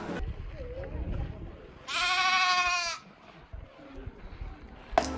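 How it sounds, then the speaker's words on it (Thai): A sheep in Iceland lets out one loud, drawn-out bleat lasting about a second, standing clear of a quiet outdoor background with faint voices. "แกะที่นี่ก็จะแบบกินหญ้าชิวๆก็เลยจะตัวอ้วนๆหน่อยนะครับ"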